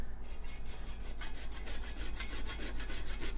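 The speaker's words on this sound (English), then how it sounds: "just like that, grind it down, microplane it" Frozen bubble hash grated on a microplane, a steady rhythmic rasping of quick close strokes that starts quietly and grows louder and brighter, with no talking.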